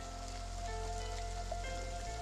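Steady rain falls throughout, a soft continuous patter on surfaces at moderate level, with a faint tonal hum underneath and no one speaking.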